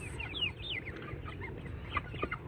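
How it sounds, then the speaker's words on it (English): Barnyard chickens on a homestead pasture clucking close by in a series of short, chirpy calls, with a low background hum underneath and no talking. "these are a bunch of Who's Your Daddy barnyard chickens"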